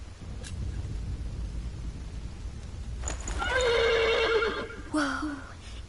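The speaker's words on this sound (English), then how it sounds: "The horse nearly woke the guard." A horse in the Pillars of the Earth game gives one long, loud, wavering whinny, then a shorter snort-like neigh, over a steady background rumble.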